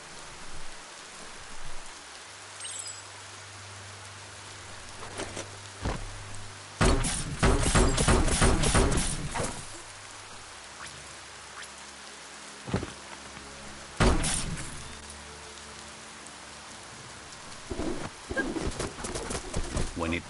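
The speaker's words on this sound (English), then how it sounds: "When it rains, it gets wet." Rain falling in the game Biomutant on PS5, a steady hiss of drops on surfaces with a few louder splashy bursts and faint bird coos in the background.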